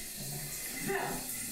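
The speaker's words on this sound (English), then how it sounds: "Cause the water just running." A tap runs with a steady, moderately faint stream of water, a continuous hiss and splash with a slight swell midway, while people talk nearby.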